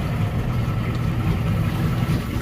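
A boat engine drones steadily on open water, a continuous low rumble with a wash of water and wind noise and no voices over it.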